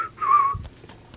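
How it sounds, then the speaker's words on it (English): A man whistles a short, clear tune of a few notes, close and fairly soft, followed by faint background sounds. "a hairy-faced man got up there and stood beside the road and began to whistle"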